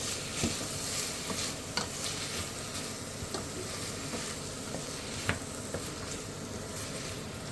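Vegetables for a rustic minestrone sweat and sizzle in a soup pot, a steady close frying hiss with occasional stirring scrapes and clicks.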